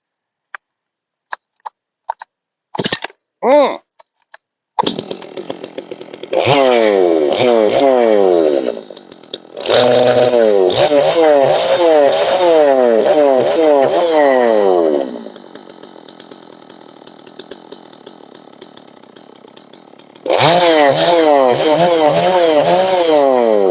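A Stihl MS200T clone chainsaw running rich: after a few short pull-start bursts, the engine revs loudly in long sustained stretches with warbling, uneven pitch, easing to a lower idle before revving hard again.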